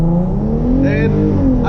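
A Hyundai Genesis Coupe 3.8 launching hard from first gear at full throttle, its loud engine drone rising steadily in pitch with a rough, buzzy tone, heard close and continuous.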